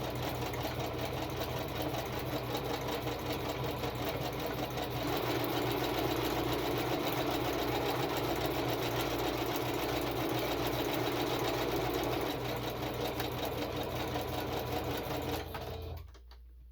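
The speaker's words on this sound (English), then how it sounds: "let's quickly get this sewn up" A sewing machine stitches through the pages of a paper journal, running as one steady, continuous whir that grows slightly louder midway and stops abruptly near the end.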